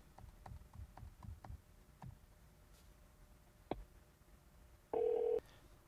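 A 2010 Nissan Maxima touchscreen dials a Bluetooth phone call: a series of soft taps and beeps, then a short steady tone toward the end, quiet and close.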